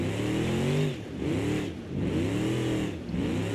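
A car engine in a vehicle video game revs in repeated rising sweeps, three surges with brief dips between them, steady and fairly loud, and no voices are heard.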